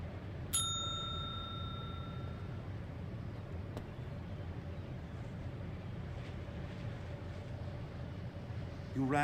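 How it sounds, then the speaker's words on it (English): A single bright bell chime rings out inside the Secret Files 2 adventure game, then fades over a steady windy, rumbling ambience. "You rang, though I'm not sure how, when I'm repairing the bell right now."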